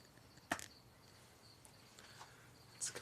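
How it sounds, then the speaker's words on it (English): Crickets chirp in a dark outdoor night setting, a thin, steady high trill running continuously and fairly faint, with a few soft clicks and taps scattered over it. "to where we can hear the beautiful crickets chirping."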